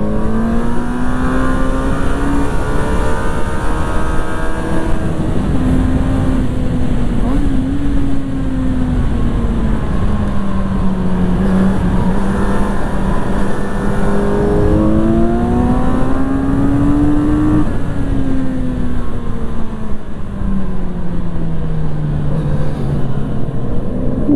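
A motorcycle engine with an oddly behaving throttle that snaps back too far drones loudly and continuously, its pitch rising and falling as the throttle is worked, revving up and easing back repeatedly, at a motorcycle festival at Interlagos.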